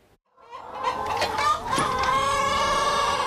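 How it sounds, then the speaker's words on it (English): Chickens cluck and squawk inside a coop at a family-run egg farm in Oconomowoc, a close, steady chorus of overlapping calls that builds after a brief quiet start. "Chickens in the coop and eggs to collect."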